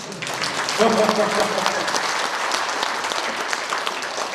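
Applause rises from party members at a training gathering, a steady wash of clapping with a voice briefly audible near the start.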